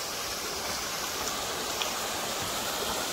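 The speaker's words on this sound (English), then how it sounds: "That's a little waterfall." A small waterfall beside the Appalachian Trail near Killington Peak gives a steady, close rushing hiss of falling water, constant and unbroken with no voices.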